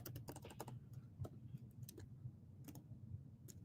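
Quick, uneven taps of typing on a laptop's built-in keys, soft and fairly close, with scattered louder clicks and a low room hum beneath.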